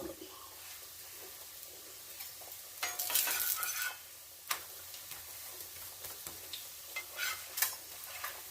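Mustard seeds pop in hot oil in a home kitchen, a faint sizzle broken by scattered crackling bursts and a few sharp clicks, with no voice.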